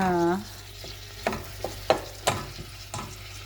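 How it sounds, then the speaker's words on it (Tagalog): Squash gets stirred in a cooking pan, several distinct scraping knocks of a utensil against the pan over a low sizzle, close and moderately quiet, no talk. "I-mix na po natin siya."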